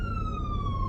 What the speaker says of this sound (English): Okay, there's an ambulance coming through.